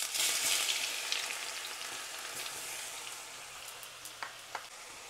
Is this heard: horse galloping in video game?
no